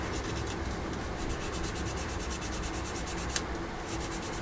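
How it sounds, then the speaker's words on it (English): Sandpaper rubbing back and forth on a plastic part from a 1/48 Tamiya F-16C/N Aggressor model kit, making a steady close scratchy rasp with quick rhythmic strokes and one brief louder scrape near the end. "I'm going to sand it a little bit. I'm going to use my actual sandpaper"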